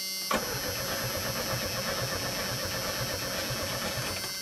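A Chevy S10 pickup engine cranking without catching, a steady rhythmic starter churn that runs loud and unbroken for several seconds after a sharp click.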